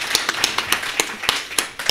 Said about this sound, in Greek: Να σε χειροκροτήσουμε για να ζεσταθείς λίγο